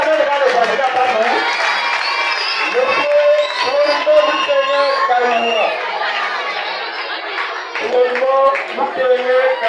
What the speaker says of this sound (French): Applaudissez d'abord devant le candidat